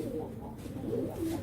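Pet pigeons coo softly and close by in low, rolling murmurs, with someone talking over them.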